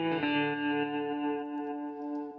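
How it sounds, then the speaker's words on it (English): Electric guitar run fully wet through a fast slapback delay, a held chord after a quick attack smearing into closely spaced repeats with slight grit, alone and steady. "And it's a fast delay."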